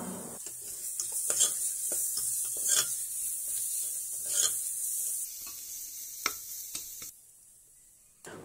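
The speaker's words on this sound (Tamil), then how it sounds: "ஒரு கையளவு புதினா இலை ஒரு கையளவு மல்லி இலை இது ரெண்டையும் சேர்த்து நல்லா வதக்கி விட்டுக்கலாம்" Handfuls of fresh mint and coriander leaves stirred and sautéed in a pan for mushroom biryani, giving a steady close sizzle with repeated scraping stir strokes; the sizzle drops away near the end.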